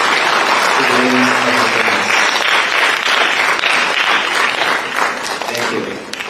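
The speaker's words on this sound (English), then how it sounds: "let's give them another round of applause for our culture" Sustained, dense audience applause fills a performing arts center at a multicultural language festival at Kauai Community College, loud and steady before thinning slightly near the end, with a brief voice early on.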